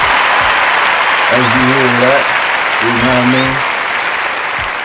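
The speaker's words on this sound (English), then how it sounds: "let's take a round of applause for it" Sustained applause from a podcast audience fills the whole stretch loudly, with a voice speaking briefly over it twice.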